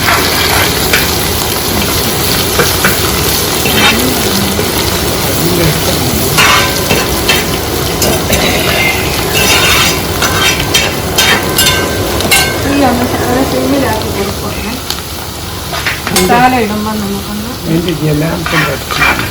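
Garlic and long-sliced ginger frying in oil for rambutan pickle, loud crackling sizzle throughout with stirring scrapes and clatter of the spoon in the pan.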